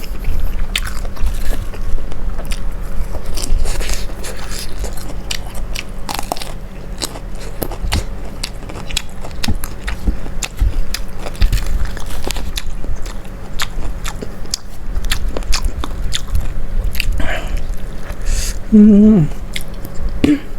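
Crunchy biting and steady chewing of a large serving of spicy Thai chicken feet salad (tam tin gai), close and loud, with repeated crisp bites and wet mastication running throughout and a brief vocal murmur near the end.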